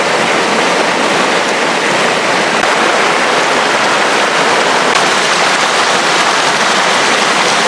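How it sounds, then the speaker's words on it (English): Rushing creek water at Pecos Canyon State Park, New Mexico, near where it joins a larger river: a steady, loud, broadband wash of flowing water, close and continuous, with no voices. "listening to the sounds of this creek right here that joins the big river"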